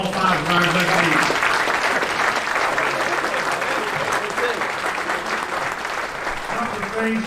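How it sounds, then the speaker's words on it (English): Sustained applause from a banquet crowd honoring five golf hall of fame inductees at a golf association celebration, loud and steady for several seconds, with some voices mixed in. "How about a big round of applause for all 5 of our inductees?"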